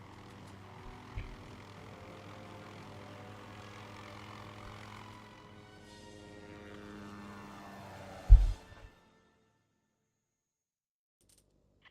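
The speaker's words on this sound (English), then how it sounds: "is picking up a helicopter coming your way" In the video game SOCOM II, an approaching helicopter makes a steady rotor and engine drone for several seconds, then a sharp loud thump before the sound cuts to near silence.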